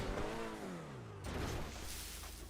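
A Cheetah Classic car in the GTA Online game revs its engine, a rising whine sweeping upward and then a whooshing rush as it pulls away, close and fairly loud with no talk.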